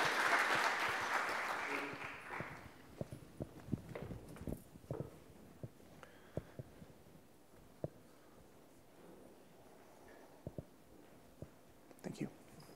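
An audience claps to welcome a lecturer at a symposium, a burst of close applause that fades within a few seconds into scattered footsteps, shuffles and light handling noises in the room.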